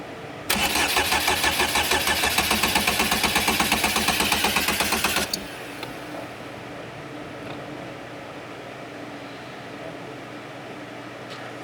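Car engine cranking rapidly with a fast, even starter rhythm for about five seconds, loud and close, then cutting off without catching, leaving a low steady hum.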